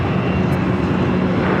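An American Airlines airliner taking off at PHX gives a loud, steady jet roar that fills the whole stretch with no break.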